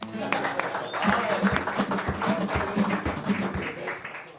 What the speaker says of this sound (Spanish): un aplauso para Manolo